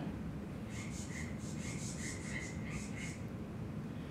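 Red wattlebird and white-browed scrubwren give alarm calls together, a rapid series of high, harsh notes over several seconds against steady broadband background noise.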